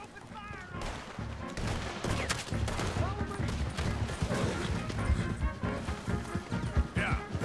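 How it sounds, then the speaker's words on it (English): Dense gunfire crackles in Red Dead Redemption 2 during a Chapter 6 shootout, overlapping shots and impacts in a continuous volley with shouting voices mixed in. "Open fire!"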